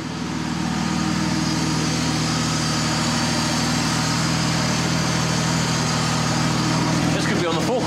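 A Ford Fiesta ST engine idles steadily at close range, a continuous low rumble with a smooth, even hum throughout.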